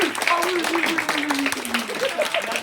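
An improv theatre audience gives polite, subdued applause, a light scattered patter of clapping under a voice talking over it.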